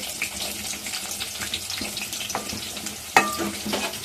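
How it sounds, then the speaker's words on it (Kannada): Onion frying in oil in a home kitchen pan along with mustard seeds, cumin and curry leaves, giving a steady close sizzle with faint stirring clinks and one sharper clatter near the end; nobody speaks. "ಸ್ವಲ್ಪ ಫ್ರೈ ಮಾಡೋಣ ಸ್ವಲ್ಪ ಈರುಳ್ಳಿ ಫ್ರೈ ಆಗಿದೆ"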